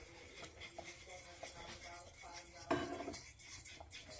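Coconut being stirred into a thickened cream pie filling in a pot, a spoon scraping and rubbing against the pan in short strokes, with a louder clatter near the end.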